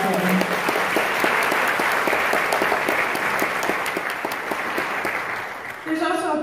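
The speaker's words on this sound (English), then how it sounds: "Can I please have you give them a round of applause for all the work that they do?" A Rotary Club audience claps for its committee members, broad sustained applause with a few sharper distinct claps standing out, tapering off near the end as a voice begins to speak.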